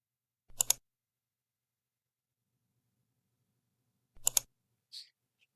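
Two sharp double clicks from a computer mouse, close and crisp, spaced a few seconds apart with near silence between, followed by a faint softer tick.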